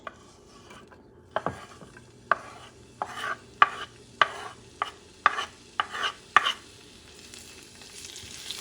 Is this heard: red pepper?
yes